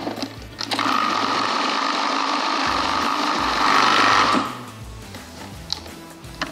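A food processor whirs steadily for a few seconds while blending lupin-flake hummus, loud and close, then winds down to a stop.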